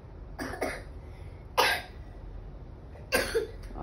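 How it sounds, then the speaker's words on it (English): Three separate coughs at a steady interval, close and clear over a quiet low background hum, the first a quick double cough. "Are you coughing?"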